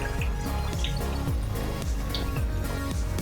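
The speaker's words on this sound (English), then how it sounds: "So now I'm going to add in double of the tequila." Tequila pours from a bottle into a margarita pitcher, with rhythmic glugging and liquid splashing close by in steady repeated pulses.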